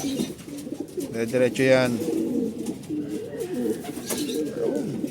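Racing pigeons coo in low, soft, repeated calls at close range, with a louder burst of cooing near the middle, while someone speaks briefly over them.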